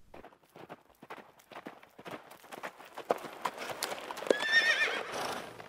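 Horse hooves clip-clop on a road as a butcher's wagon approaches through Sherwood toward Nottingham, steady rhythmic hoofbeats growing louder and closer, with a neigh and rattling near the end.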